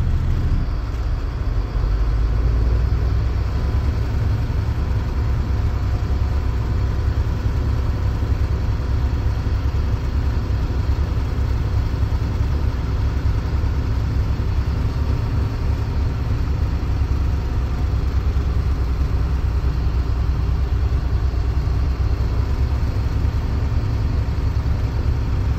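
A truck sits idling during an in-cab inspection, building air brake pressure back up after the brakes were released, giving a steady, continuous low engine drone with no talking over it.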